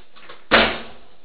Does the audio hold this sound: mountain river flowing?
no